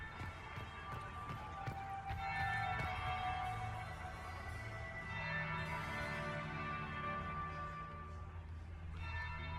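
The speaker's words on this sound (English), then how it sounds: "That would be the second bell." In Dragon Age Inquisition, a church bell rings out with sustained, resonant tolls over a busy, steady game ambience with soft patter.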